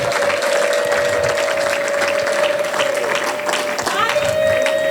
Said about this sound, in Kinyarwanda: Mumpera Imana amashyi n'impundu.